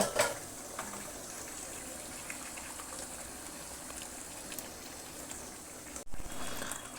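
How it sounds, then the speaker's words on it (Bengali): Chicken and masala cook on high flame in a pan, giving a steady, close sizzling hiss with faint bubbling and a brief clatter near the end. "মশলাটা আমি এখন হাই ফ্লেমে এভাবে কষাতে থাকবো।"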